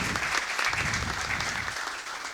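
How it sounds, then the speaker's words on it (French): Audience applause welcoming a speaker at a leadership event, a steady, even roar of many hands clapping, moderately loud and continuous throughout. "Vos applaudissements"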